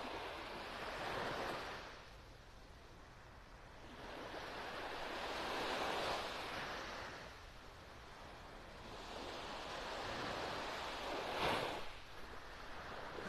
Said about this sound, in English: Pretty much ripples this morning. Every now and then a little wave.